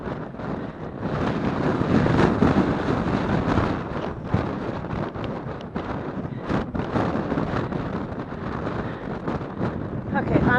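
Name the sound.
wind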